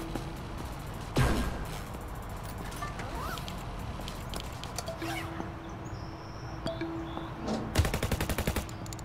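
A wave gun fires in Internet Cafe Simulator 2, with sharp synthetic bursts near the start and a denser rapid volley near the end over a low game background hum.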